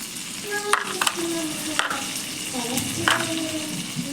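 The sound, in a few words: frying shahi jeera and spices in butter and oil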